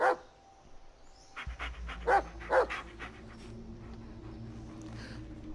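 A dog in the Blair Witch video game pants and gives short whimpering, barking bursts close by, several in a loose rhythm, over a low steady ambient rumble.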